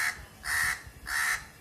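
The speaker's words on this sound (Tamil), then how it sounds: "அவங்க அம்மா காக்கா அப்பா காக்கா பக்கத்தில் இருக்காங்க பாருங்க" Two crows caw near their nest by an apartment building in Chennai, giving three harsh, evenly spaced caws close by, each roughly a quarter-second long.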